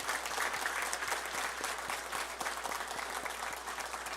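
A church congregation claps for the staff who edit the monthly newsletter, fairly quiet but sustained applause with some distinct individual claps standing out in a steady patter.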